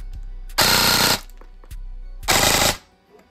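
An airsoft gun fires on full auto in two short, loud bursts of rapid shots, each about half a second long, with a brief pause between them.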